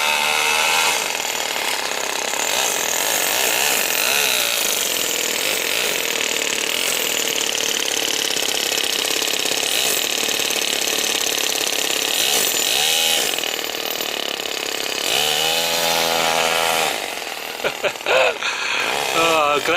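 A 4-stroke engine fitted in a Mercedes-Benz RC truck runs rich, with a loud, buzzing, revving drone held close throughout and a few sputtering blips near the end.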